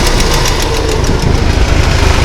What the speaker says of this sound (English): It's got a tick in the motor.